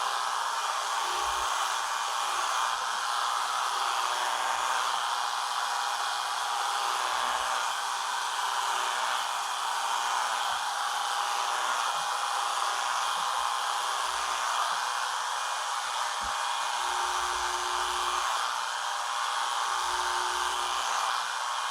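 An electric shaver buzzes continuously while shaving a head, a steady close whirring hum for the whole stretch with occasional faint low knocks and shifts in tone.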